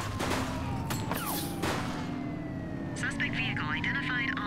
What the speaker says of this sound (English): He's shooting! Shoot the vehicle!